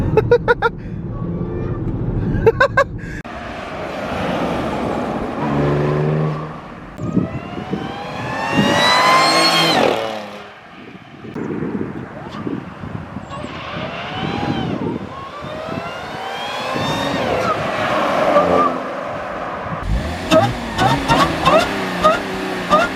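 From inside the cabin with the windows closed, an Audi S4 fitted with an aftermarket exhaust revs hard: a loud engine roar rises and falls in repeated sweeping pulls, with brief gaps between revs.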